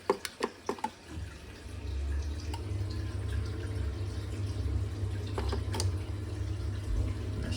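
Hot water runs steadily from an opened tap after being shut off underneath, a constant low rush following a few sharp clicks and knocks at the start.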